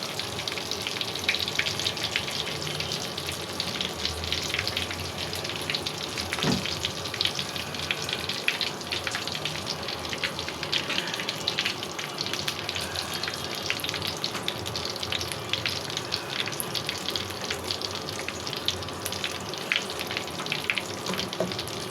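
Eggplant slices frying in oil in a pan give a steady, close sizzle with constant fine crackle and bubbling across the whole stretch, with no voices.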